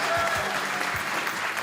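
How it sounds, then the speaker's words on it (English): Brief, continuous applause from a live audience in a library setting, a dense even wash of clapping with some faint crowd noise underneath. "give him a round of applause as well."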